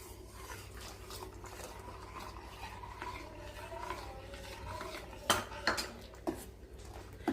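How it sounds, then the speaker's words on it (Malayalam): A spoon stirs custard powder mixture in a pot for a bread and mango dessert, a steady soft scraping swirl that builds to a few sharp metallic clinks of utensil against the pan near the end. "ഒഴിക്കുന്നതിന് മുൻപ് ഒന്നും കൂടെ നന്നായിട്ടൊന്ന് ഇളക്കി യോജിപ്പിക്കണം"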